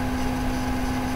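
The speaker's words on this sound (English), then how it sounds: "My fan's built in my laptop." A laptop's built-in cooling fan whirs steadily and close, a constant broadband hum with a fixed tonal whine and no talking over it.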